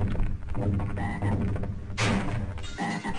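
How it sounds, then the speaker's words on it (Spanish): Frogs croaking in the Half-Life video game, a run of loud, rough, repeated croaks with a sharp burst near the end, no talking. "Tío, la puta rana, ¿dónde cojones estará?"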